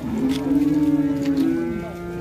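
A single bovine lets out a loud, close, drawn-out moo lasting about two seconds at a livestock bazaar where bulls are traded.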